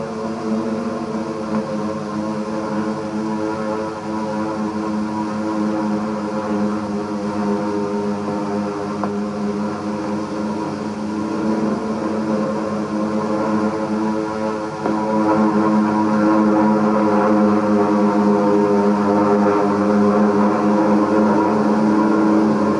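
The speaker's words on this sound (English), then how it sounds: "drone of planes coming." Propeller aircraft drone steadily as they approach in an early-morning scene from a wartime propaganda film, a continuous layered engine hum that swells slightly louder partway through, with no talk.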